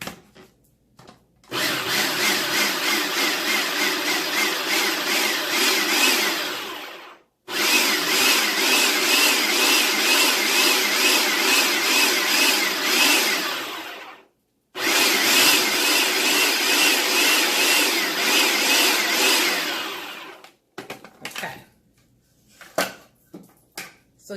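A food processor whirs loudly through biscuit flour and dry ingredients in three long runs of several seconds each, separated by short silences, with a few faint clicks and knocks at the end.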